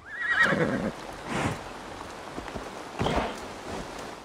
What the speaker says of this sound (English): The horse is moving on its own.